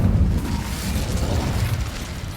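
Incendio fire spell cast in Hogwarts Legacy, a steady low rumbling whoosh of flame that holds loud and even for a couple of seconds, deep and booming with no break.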